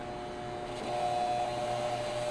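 A sewing machine stitching a T-shirt quilt gives a steady, close mechanical hum that grows slightly louder as the stitching gets going.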